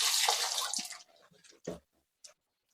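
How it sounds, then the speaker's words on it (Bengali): Potatoes, onions, green chillies and tomatoes being washed in water, with a steady splashing rush for about a second, then a few separate sloshes and drips trailing into near silence. "এখন আমি সবগুলো ভালোভাবে পরিষ্কার করে নেব ধুইয়া।"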